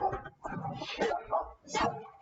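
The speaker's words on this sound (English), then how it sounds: "Pardon me for the barking, you guys. Dogs are going crazy here." Several dogs bark and yip excitedly in short, irregular bursts during a live sports podcast, moderately distant and fairly faint, with some whimpering mixed in.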